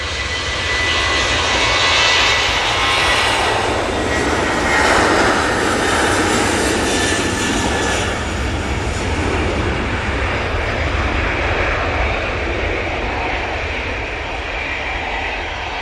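A British Airways airliner landing at Manchester Airport roars loudly and steadily overhead, the engine noise swelling and then easing slowly as it passes, with no talk.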